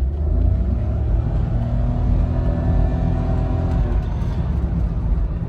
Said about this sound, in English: a little vehicle that can accelerate like this